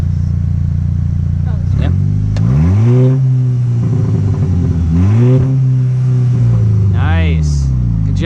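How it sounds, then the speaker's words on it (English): MK6 VW GTI engine idling and then revved twice close by, each rev sweeping up and falling back to idle, followed by a quicker blip, with a brief spoken word over it. "Give a little rev."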